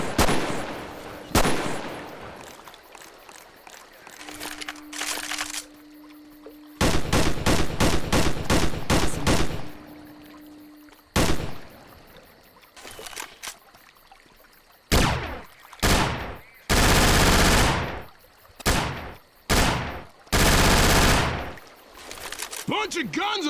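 Gunfire from Left 4 Dead 2 weapons, a shotgun and a machine gun, comes as loud bursts and rapid automatic volleys with short gaps between them, plus separate single heavy shots, in a game with a steady tone underneath.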